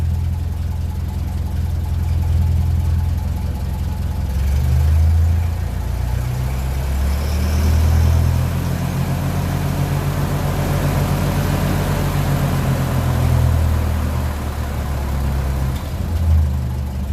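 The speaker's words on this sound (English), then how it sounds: "Just listening to the exhaust." A 1957 Ferguson 35 tractor on TVO idles just below 600 rpm, its exhaust giving a steady low chugging rumble with gentle rises and dips in loudness across the whole stretch, close and uninterrupted.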